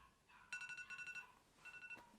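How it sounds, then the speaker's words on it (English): Alarm clock ringing with rapid high electronic beeps in two bursts, faint and thin. "Oh, alarm."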